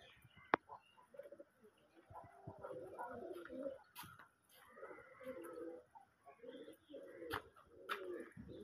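Pigeons coo in a loft of paired birds for sale, soft repeated throaty calls rising and falling through the clip, fairly faint, with scattered chirps and a sharp click early on.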